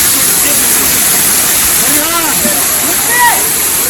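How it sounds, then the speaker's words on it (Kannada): Jhari Falls, a waterfall near Chikkamagaluru, roars as a loud, dense, unbroken rush of falling water heard close up, with faint voices barely rising above it. "ನೋಡ್ರಿ ಹೆಂಗೈತಿ ಫಾಲ್ಸ"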